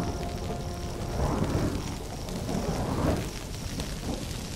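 Thunder from a lightning storm over dry grassland in Brazil rolls in low rumbling swells, two broad surges over a steady hiss of rain, fairly close and without speech.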